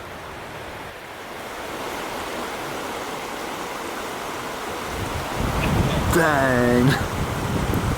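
Wind picking up by a river during late winter fly fishing: a broad, rushing roar blending with flowing water that grows louder partway through, with a man's brief exclamation near the end.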